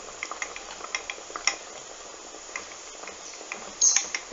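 Cornstarch porridge being stirred in a pan, light repeated scraping and clinking of a utensil against the pan close by, with a louder knock near the end.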